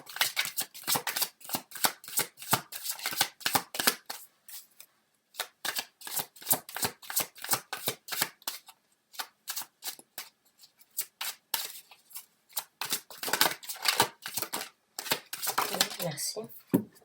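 Tarot cards are shuffled by hand in quick riffling bursts, with short pauses between the runs. The shuffling sounds close and crisp, and someone speaks softly now and then.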